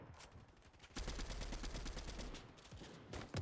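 Fortnite gunfire in Tilted Towers, including shotgun fire, sounds as a rapid run of quiet, repeated shots and bursts, with no talk in between.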